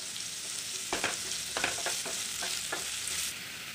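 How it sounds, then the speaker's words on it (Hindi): Chopped vegetables (spring onion, beans, carrot, green capsicum) are sautéed for masala noodles, a close sizzle with a run of stirring scrapes and taps through the middle, no voices. "अब इसको हमें प्रॉपरली सौते करना है, इसको अच्छे से सौते कर लेना है।"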